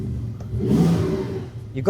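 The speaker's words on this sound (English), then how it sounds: "I'm going to fire this car up" A 2025 Porsche 911 Carrera GTS coupe with a 3.6-litre engine fires up close by, its revs flaring loudly before settling into a steady, throaty idle.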